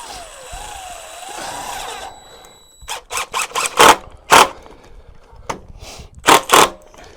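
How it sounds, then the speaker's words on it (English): Power drill driving a screw into wood while building a garden tool hanger, heard as a series of short close whirring bursts, several in a row with brief pauses between. "So I'm going to go ahead and start my screw."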